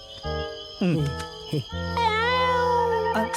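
A voice imitates a cat, giving several drawn-out, wavering meows in close succession, loud and near.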